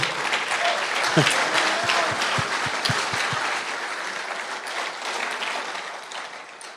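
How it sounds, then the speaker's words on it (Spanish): An audience at a church conference claps in steady applause that fills the space. A few low thumps come early on, and the clapping fades gradually toward the end. "démosle un aplauso al que todo lo puede"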